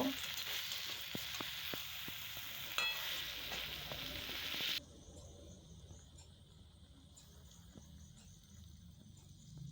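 Fish roe and potatoes being stirred in oil in a pan, with a loud close sizzle and scraping stirs that drop to a much quieter simmer halfway through, with no talking.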